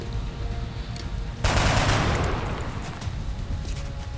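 Gunfire from a soldier in XCOM: Enemy Unknown, a sudden loud burst of shots cracking out mid-scene, then a decaying rush of noise fading over the next couple of seconds.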